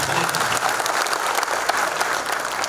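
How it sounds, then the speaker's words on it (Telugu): An audience at an All India Bank Employees' Association conference claps, producing dense, continuous applause from a large crowd that holds steady and loud for the whole stretch. "చప్పట్లు కొట్టేటప్పుడు కొద్దిగా గట్టిగా కొట్టాలి"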